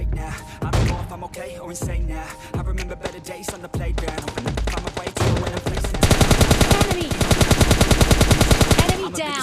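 Gunfire from two players fighting in PUBG Mobile Lite: loud repeated gunshots that build into sustained rapid automatic bursts, dense and continuous toward the end.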